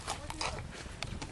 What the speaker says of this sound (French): Bon, il est gaillard ce cheval, il avance